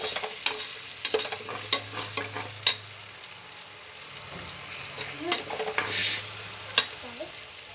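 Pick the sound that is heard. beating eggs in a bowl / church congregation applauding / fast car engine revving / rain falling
beating eggs in a bowl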